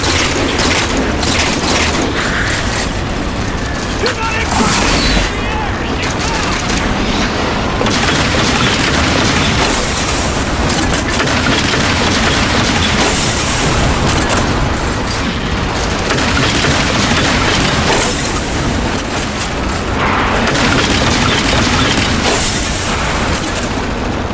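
Railgun shots and heavy explosions in the Halo 4 campaign mission Reclaimer, a dense continuous barrage of loud booms and gunfire filling the whole stretch with no pauses.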